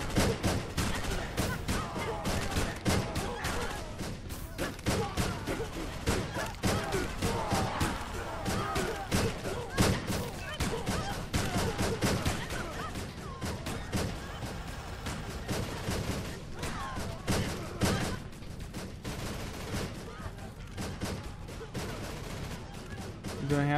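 Continuous battle din from a Dustwind siege, with sniper shots and gunfire cracking repeatedly through dense, loud explosions and thuds for the whole stretch, and no clear gaps between them.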